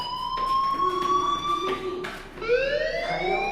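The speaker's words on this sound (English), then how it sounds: "Hey, do you hear that fire alarm?" A fire alarm rings in the Life Is Strange video game, a steady electronic tone holding for several seconds and then rising in pitch, loud and continuous with no talking over it.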